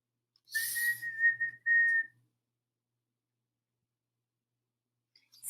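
Three short, clear whistled notes in quick succession, close and fairly loud, followed by silence.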